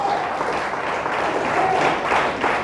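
A Spanish-speaking church congregation claps hard in praise to God, a thick, continuous wash of applause held at a steady loud level throughout.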